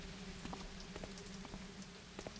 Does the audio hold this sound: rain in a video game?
yes